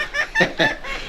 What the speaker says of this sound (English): She just makes that noise and tries to find a secret spot to lay her egg